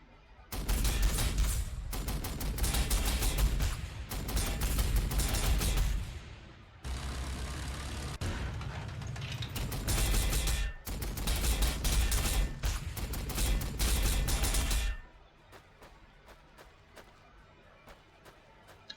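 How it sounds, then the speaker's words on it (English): Bolter shots in the Warhammer 40,000: Sanctus Reach strategy game: loud, sustained volleys of rapid automatic fire in long bursts separated by short gaps, ending with a few sparse, quieter pops. "A lot of bolter shots over there"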